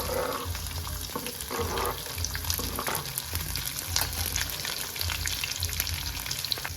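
Finely chopped onions frying in a pan with chilies while making kanda poha, with a steady close sizzle and occasional stirring scrapes and no talk.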